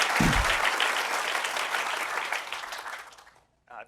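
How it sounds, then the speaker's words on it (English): An audience applauding at an event, a dense burst of clapping that holds steady for about three seconds and then fades out, followed by a brief voice. "Clap."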